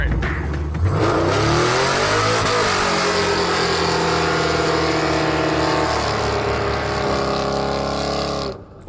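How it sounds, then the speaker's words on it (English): A muscle truck with a small block Chevy engine in its bed doing a burnout: a very loud, close engine revving up hard and holding a raw, pulsing roar for several seconds before abruptly cutting off. "He's going to do a burnout for distance with a dog and a small block Chevy in the bed of the muscle truck"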